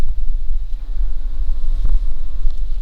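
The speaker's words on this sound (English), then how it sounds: "That bee again." A bee buzzes close by among pot marigold flowers in a garden, a steady drone over low wind noise on the microphone.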